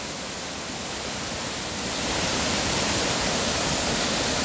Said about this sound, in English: There it is, folks, Laurel Falls.